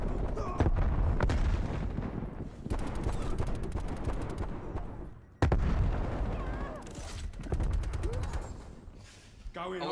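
Gunfire rattles through a Call of Duty match on the Nuketown 84 map, with bursts of automatic fire, a grenade blast and booming impacts crowding most of the stretch, loud and close, with a short lull before the action resumes.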